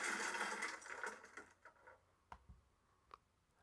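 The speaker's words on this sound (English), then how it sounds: "So crash junk 3 sounds like this." The GarageBand crash junk 3 effect plays as a quiet burst of clattering metal and debris that tapers into a few scattered rattles and knocks.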